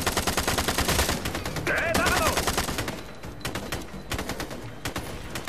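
Machine gun fire and gunshots in the co-op shooter Ghost Recon Future Soldier, loud and dense through the first seconds, then thinning into scattered bursts over a continuing battle din.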